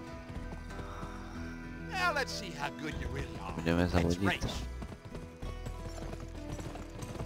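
Horses in a race in the Western video game GUN, with hoofbeat clip-clop and a neigh or whinny heard under a man's speech and background music, fairly close and moderately loud.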